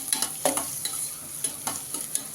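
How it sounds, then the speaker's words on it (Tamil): Onions for a mushroom biryani being stirred and sautéed in a pan: repeated scraping strokes of a spoon over a steady low sizzle, close and fairly quiet, with no talking. "இன்னும் கொஞ்சம் வதங்கட்டும் வெங்காயம்"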